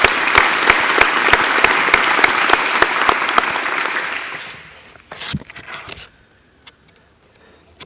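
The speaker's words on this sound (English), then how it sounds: "Please join me in a round of applause for all of our business partners." Audience members at a county foundation fall grant ceremony applaud local business partners, a loud, dense wash of clapping that holds steady and then tapers off into a few scattered claps and quiet room noise.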